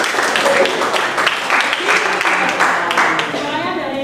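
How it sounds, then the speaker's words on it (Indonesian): Applause in a classroom after a student presentation on economics, a scattered, fairly close patter of clapping hands with voices chattering over it. "Ya, tepuk tangan sekali lagi."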